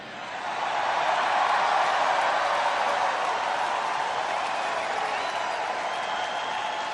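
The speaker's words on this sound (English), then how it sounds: "I didn't expect to applaud." Audience applause fills a hall, a dense, steady wash of clapping that swells in within the first second and holds at an even level to the end, with a few faint chuckles mixed in.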